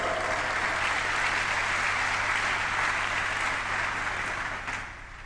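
A lecture audience at a university gives a dense, sustained round of clapping, close and full, holding steady before easing off at the end.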